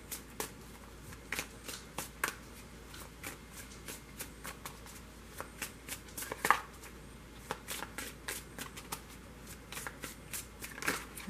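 Tarot cards are shuffled over and over, including bridge shuffles, making quick flicking and slapping bursts in an uneven rhythm, close by and with no voices.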